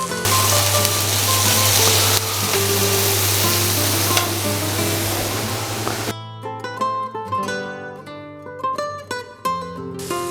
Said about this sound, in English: Let's add our paella rice, 300 grams, because we're making 3 portions.